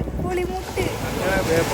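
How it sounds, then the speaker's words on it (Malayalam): A jankar ferry crosses the water from Chaliyam, its low engine rumble and water wash blending with gusty wind buffeting the microphone, while indistinct voices murmur over the noise. "അങ്ങനെ ഞങ്ങൾ ചാലിയത്ത് നിന്ന് ജങ്കാർ കയറി"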